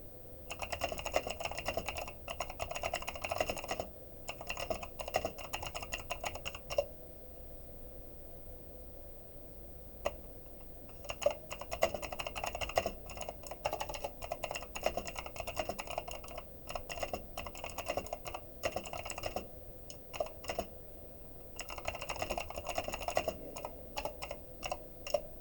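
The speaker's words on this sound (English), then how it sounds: "Keyboard ASMR" Someone types steadily on a computer keyboard at a gaming desk, with brisk clattering runs of keystrokes broken by short pauses, close and moderately loud throughout.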